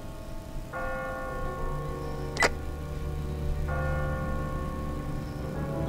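Church bell in a bell tower in The Walking Dead video game, heard as sustained ringing tones that start, fade and return, with a sharp metallic strike between them, over a low ambient hum.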